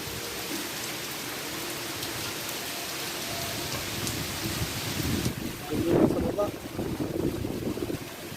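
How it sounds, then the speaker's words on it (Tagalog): Steady typhoon wind and rain roar across the whole stretch in Laguna, Philippines, with gusts buffeting the microphone and a louder burst near the end. "mahangin ngayon dito sa Laguna. May bagyo kasi oh."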